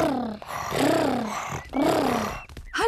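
A voice in a cartoon imitates a tiger purring, a drawn-out, rolling growl-like vocalization repeated several times in quick bursts.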